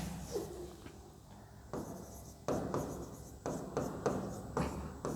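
Chalk or marker scratches on a classroom board as a teacher writes about galaxies, coming in a series of short scraping strokes with pauses between them, close and moderately loud, with no speech over them.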